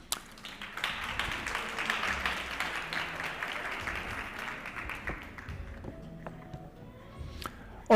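An audience at a future-of-work dialogue applauds a guest speaker, steady clapping over about five seconds that fades out, followed by a brief quieter stretch and a sharp knock at the very end.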